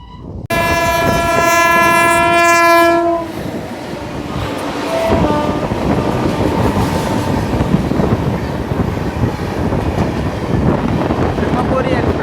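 Indian passenger train on the Kacheguda–Kottayam special run near Venkatachalam, Nellore: a loud horn blares for about three seconds, then a steady rumble and rattle of the moving coaches carries on to the end.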